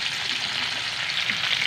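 Cabbage, potatoes and ground meat being stirred in a frying pan, giving a steady, close sizzle with faint scraping throughout, no voices.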